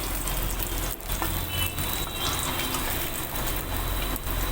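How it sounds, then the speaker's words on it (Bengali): Pieces of catla fish fry in hot oil with a steady, dense sizzle and crackle throughout. A few faint clicks come through and no one talks. "মাছগুলো দেখুন কত সুন্দরভাবে ভাজা হয়ে গেছে।"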